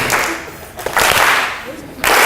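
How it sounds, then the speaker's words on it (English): A live audience at an ASNC 2010 event breaks into brief bursts of clapping, loud and close, in short swells separated by quieter room noise. "Why don't we start clapping? Just clap real quick."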